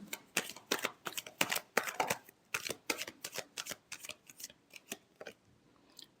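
Tarot cards being shuffled in quick riffling bursts, a rapid run of sharp papery flicks close by, alone and without talk.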